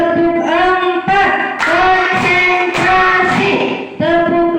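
A class of pupils plays a rhythmic hand-clapping game with their teacher, sharp group claps falling between loud chanted voices that dominate the sound.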